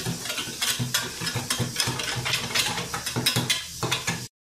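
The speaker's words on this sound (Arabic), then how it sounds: "غادي نطربو مزيان." Rapid, steady whisking of a milk and flour batter in a bowl, a continuous rhythmic clatter and swish close by that stops abruptly.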